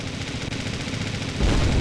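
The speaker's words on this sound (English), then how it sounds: "Heavy Gatling is doing a pretty good job up there." Heavy Gatling gun turret in the Kittypocalypse video game firing a continuous rapid stream of shots, loud and dense throughout with a heavier burst near the end, no talk.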